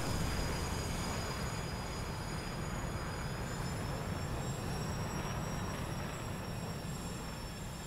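The jet engines of an F-4B Phantom taxiing on an aircraft carrier deck in a flight simulator give a steady, loud roar with a high whine running through it for the whole stretch.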